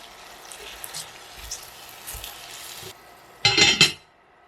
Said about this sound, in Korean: 뚜껑 닫고 당근을 익히세요.